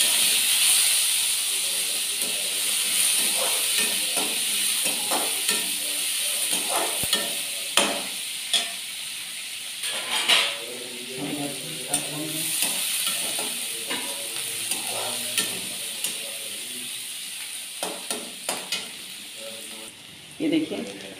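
Onion and chillies frying in a pan for a nonia (kulfa) greens sabji, a continuous loud sizzle broken by repeated stirring scrapes and clacks.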